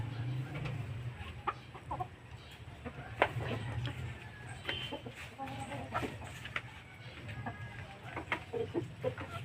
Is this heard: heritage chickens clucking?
yes